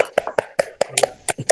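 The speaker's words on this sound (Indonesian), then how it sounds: "Kasih tepuk tangan dulu sama Mas Taufik." A small classroom group claps for a student, a short run of sharp, roughly rhythmic hand claps close by, lasting just over a second.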